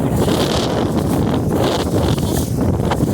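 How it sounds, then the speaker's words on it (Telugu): Strong wind buffets the microphone in loud, continuous gusts, roaring steadily with no voices. "ఎంత గాలి వస్తుందో."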